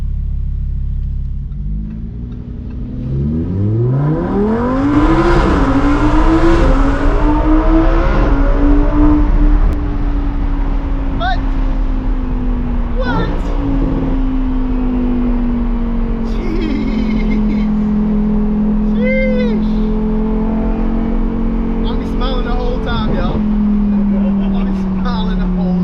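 A Lamborghini engine roars as it launches, revving up hard and accelerating, then settling into a steady drone with a person talking over it.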